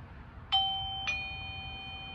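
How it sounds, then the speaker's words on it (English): A Eufy smart lock doorbell chimes twice in quick succession, a clear two-tone ding-dong ringing out and fading over quiet background hum. "I'm going to ring the doorbell."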